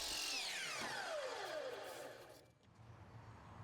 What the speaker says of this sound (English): To begin the installation, I cut a 45-degree miter on the end of one molding section.